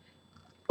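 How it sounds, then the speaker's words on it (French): A single sharp sneeze bursts in loud and close at the very end, right after near silence, with no talk over it. "Je vais éternuer."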